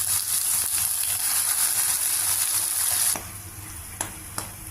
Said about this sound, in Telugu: ఇప్పుడు ఇందుకు ముందరగా ప్రిపేర్ చేసుకున్న మసాలా పేస్ట్ ఇది కొద్దిగా పచ్చివాసన పోయేదాకా వేయించుకోవాలి